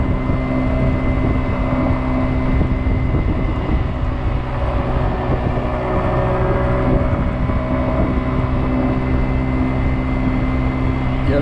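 A Kymco Agility 50 scooter rides through a residential neighborhood, its small engine giving a steady, continuous drone with road rumble throughout and no talking.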